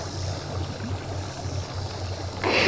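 A low, steady motorboat engine drone hums over lapping water, swelling louder in the final moment as the boat comes closer.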